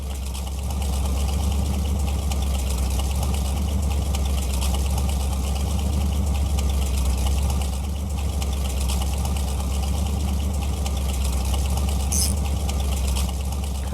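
A car engine runs in the video game My Garage, a steady low droning idle that continues unbroken and fairly loud in the background, with no speech over it.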